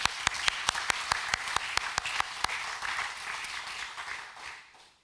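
An audience at an ESR label award ceremony applauds the labelled companies, with a few sharp distinct claps at the start, then dense, fairly faint clapping that tapers off toward the end.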